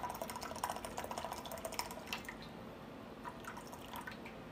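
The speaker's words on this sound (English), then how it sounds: "just add the same temperature water" Hot water trickles and splashes steadily into a teapot of Japanese shincha green tea, a close, gentle pouring with small drips and bubbling, no voices.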